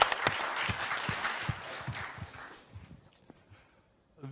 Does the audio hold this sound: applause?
yes